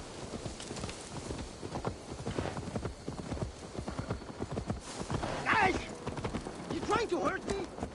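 Video game horse hooves clip-clop in a steady walking rhythm in Assassin's Creed Valhalla, and a horse whinnies partway through.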